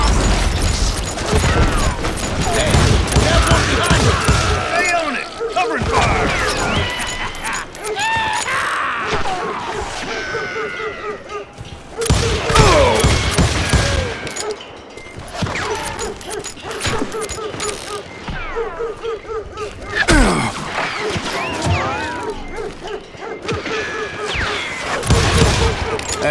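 Gunfire in the Western game Call of Juarez Gunslinger: loud, dense volleys of shots and booming blasts over nearly half a minute, with brief lulls and shouting voices between the bursts.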